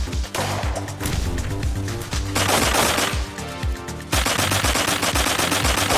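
Rapid MP7 submachine gun fire in the online shooter Blockpost, dense continuous automatic bursts with sharp repeated cracks, loud and close, with no talk over them.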